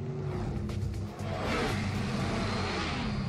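A car engine runs and swells in a steady rushing drone, briefly dipping then surging louder as if accelerating past, with no voices.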